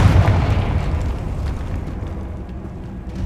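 A Confringo fire-blast spell exploding in Hogwarts Legacy: a loud, deep boom at the start that rumbles and slowly fades over a few seconds.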